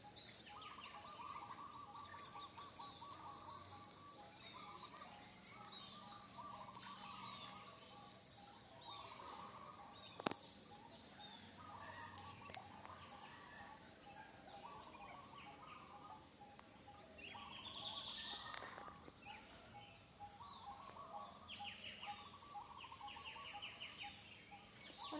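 At a spring bathing site, birds chirp and twitter in repeated bursts over a constant bed of insect and cricket buzzing, with one sharp knock partway through. The ambience is fairly quiet and distant.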